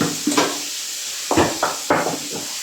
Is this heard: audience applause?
no